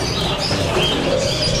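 Chirping from a pair of lutino personata lovebirds with black eyes at a bird market, a steady, busy twitter of small calls over constant crowd and background noise.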